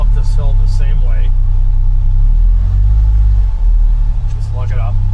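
Polaris Ranger Northstar UTV engine climbing a hill with rear tires locked, a loud steady close rumble throughout, with voices talking over it at the start and end.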